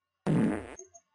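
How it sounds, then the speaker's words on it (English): A single fart noise, loud and close, with a short raspy burst that trails off into a few fainter sputters and then silence. "Fart!"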